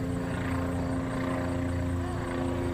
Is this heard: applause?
no